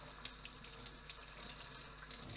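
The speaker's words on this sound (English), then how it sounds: "You can hear the water running." Tap water runs steadily into a kitchen sink while fish is rinsed of salt under the stream, a continuous close gushing hiss with small splashes, no voices.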